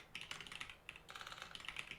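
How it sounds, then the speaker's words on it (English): Rapid typing on a computer keyboard while writing Kotlin code, a quiet, close stream of light key clicks in quick irregular bursts with a brief pause midway, no talking. "This is a lot of typing though."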